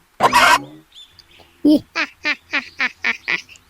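Loud squawking calls of a chicken, one long cry then a rapid series of short clucks in quick succession, close by.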